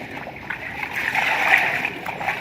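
Water poured over grape seedling planting media, a continuous near splashing and gurgling trickle with soft fluctuations throughout.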